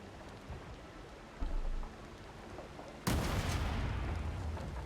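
Explosions in Anno 1800, a sudden loud blast that swells into a sustained rumbling roar after a quieter stretch of crackling ambience.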